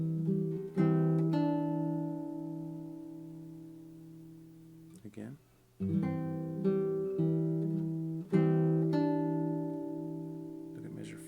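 Classical guitar chords from Leo Brouwer's Un Dia de Noviembre ring out in slow, sustained strums with a bright plucked upper note, close and clear, briefly interrupted midway.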